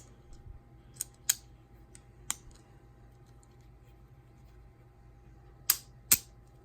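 Small scissors on a Leatherman Wave multitool clicking open, a handful of sharp, close, isolated clicks spread over several seconds against quiet background.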